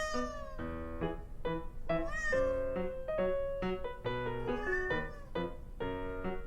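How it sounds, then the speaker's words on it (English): A cat meows again and again in quick, closely spaced calls, some rising and falling in pitch, loud and steady throughout with no talking. "Yes, it's a cat."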